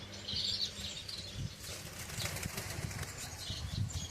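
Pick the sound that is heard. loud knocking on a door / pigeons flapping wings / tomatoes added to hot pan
pigeons flapping wings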